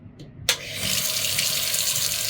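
Water from a tap bursts on abruptly after a short click, then runs as a strong, steady, close hissing gush, alone without talk.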